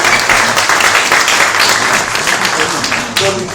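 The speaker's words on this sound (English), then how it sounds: "So, one more applause." Audience applause at a gathering honoring Dr. Mahathir, a Malaysian statesman. The dense, steady clapping stays loud and continuous for the whole stretch and dips only slightly near the end.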